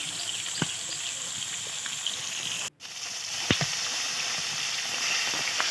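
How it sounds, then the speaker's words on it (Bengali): Rui fish pieces fry lightly in oil with an even, close sizzling hiss, a few sharp clicks and spits, and a brief cut in the sound partway through. "মাছগুলো এক ফুট করে ভাজা হয়ে গেছে দেখো"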